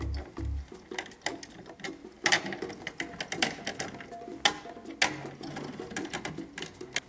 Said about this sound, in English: now at this point we can just go in a line, removing and loosening all the tension rods completely